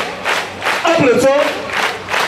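A crowd at a church youth preachers' celebration claps and cheers in bursts, with a voice calling out over the noise of the gathering.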